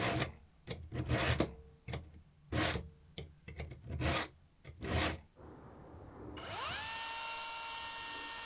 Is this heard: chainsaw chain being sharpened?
yes